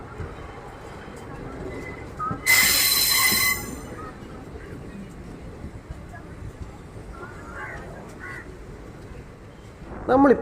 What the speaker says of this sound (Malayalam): നമ്മളിപ്പോൾ ഈ സഞ്ചരിച്ചുകൊണ്ടിരിക്കുന്ന ഈ എറണാകുളം കണ്ണൂർ ഇൻ്റർസിറ്റി ട്രെയിൻ